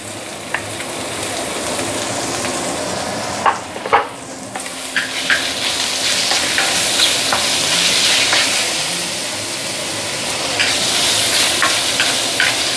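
Shiitake mushrooms stir-frying in a pan for imitation shark fin soup, with a loud continuous sizzle and occasional scraping stirs and clacks of the utensil.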